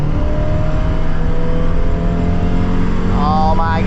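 A 1991 Mazda Miata accelerates at full throttle in a race, its engine drone loud and steady from start to finish, with a rising whine near the end.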